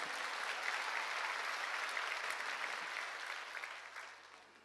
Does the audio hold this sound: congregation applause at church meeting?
yes